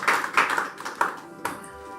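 Church congregation clapping during a Sunday service, with a few sharp, separate claps and pats spaced irregularly, close and fairly loud.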